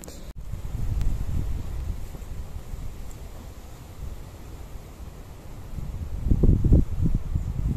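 Light outdoor wind rumbling low and steady against the microphone at a horse show-jumping competition, with a stronger gust near the end.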